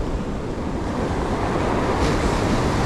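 Rough ocean surf churned up by a cyclone, a loud, continuous roar of breaking waves mixed with heavy wind buffeting close by, with no voices.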